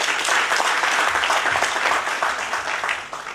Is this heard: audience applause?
yes